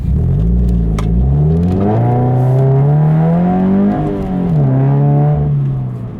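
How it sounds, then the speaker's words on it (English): A Subaru BRZ engine revs up through the gears, its rising tone climbing, dipping briefly at a shift, then pulling again, loud and close inside the car with no talk. "A little acceleration for you, just because I can't resist"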